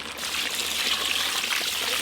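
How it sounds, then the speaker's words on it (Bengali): Water poured into a pot of chicken curry, a steady close trickle and splash running without a break for about two seconds, with no voices over it. "এবার জল দিয়ে দেবো।"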